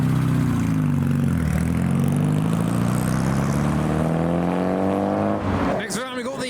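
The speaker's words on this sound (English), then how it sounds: "Something of a hot rod departing the show." A hot rod's engine rumbles loudly as it departs a car show, a steady low drone rising slightly in pitch before tapering off, with a voice heard over it.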